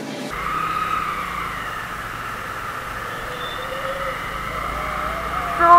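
A motorcycle ridden along a road, giving a steady mid-pitched engine hum with wind and road noise underneath, constant and moderately loud, rising slightly at the very end.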